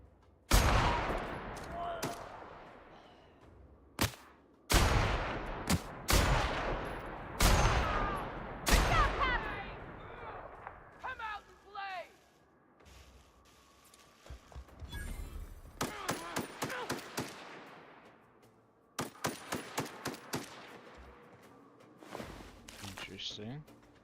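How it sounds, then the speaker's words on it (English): Gunfire rings out in The Outer Worlds in sharp, loud bursts of single shots and rapid volleys separated by short gaps, with scattered smaller mechanical clicks and rattles between them. "Shoot right over his head"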